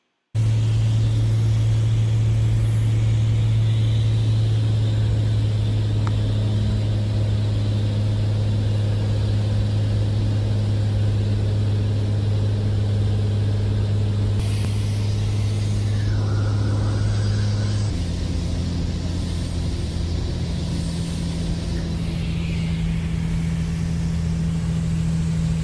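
Small airplane engine droning steadily in flight over a mountain range near Ogden, Utah, after a missed approach, a loud constant low hum with a strong tonal rumble that shifts pitch slightly partway through, no talk.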